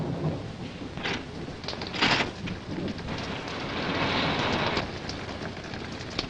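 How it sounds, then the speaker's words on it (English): A film storm of steady heavy rain with rolling thunder rumbles swelling and fading, dense and continuous with no voices. "I think it would be foolish to go out in such a storm."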